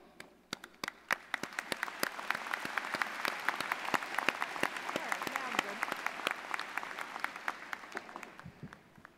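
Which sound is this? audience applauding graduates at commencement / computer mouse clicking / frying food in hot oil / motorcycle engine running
audience applauding graduates at commencement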